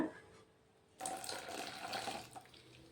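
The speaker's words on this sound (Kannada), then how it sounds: "ಮಿಕ್ಸಿ ಜಾರಿಗೆ ನೀರು ಹಾಕಿರೋದು ತೋರಿಸ್ತಾ ಇದ್ದೀನಿ ಹಾಗೆ ಬಗ್ಗಿಸ್ಕೊಳ್ಳೋಣ" Water used to rinse a mixer jar is tipped out into a vessel for green gram and sabudana idli batter, a faint trickle followed by a steady, close pouring splash lasting about two seconds.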